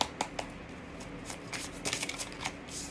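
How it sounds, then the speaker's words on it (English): Tarot cards are shuffled close by in quick, crisp riffling bursts that run steadily through the short moment, with no talking. "can I get some cards,"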